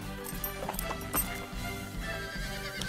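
Horse hooves clip-clop in a cartoon, a quick run of rhythmic, fairly close hoofbeats layered with music and a possible whinny.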